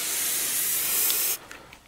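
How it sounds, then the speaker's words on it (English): Adhesive spray can hissing in one steady, loud, continuous burst for over a second while coating a foliage-covered craft surface, then cutting off abruptly, leaving faint, quiet room tone. "I'm going to spray it again with the adhesive."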